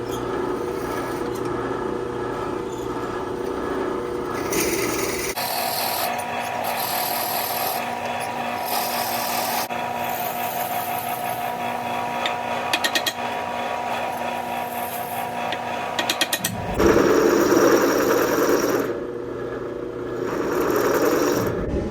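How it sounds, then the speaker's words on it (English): A power drill grinds steadily into knife steel near the tang, a continuous whirring rasp with slight shifts in pitch and pressure, close and alone. "Let's drill."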